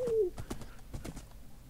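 Rhythmic hoof clip-clops from a horse in Minecraft, a quick series of hollow knocks close by, with a short rising tone at the start.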